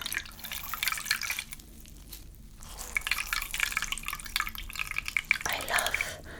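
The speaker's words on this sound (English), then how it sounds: "So, just drenching it and rinsing it." Water dripping and splashing as a cloth is drenched and rinsed by hand, close and soft, with irregular trickles and patters broken by brief quiet gaps.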